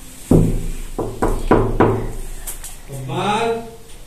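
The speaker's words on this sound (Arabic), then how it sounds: "يلا ماما دق الباب حبيبي" A child raps on a door at a doctor's office: five sharp, close knocks in an uneven rhythm, followed by a raised voice.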